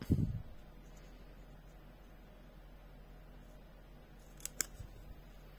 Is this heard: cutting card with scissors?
yes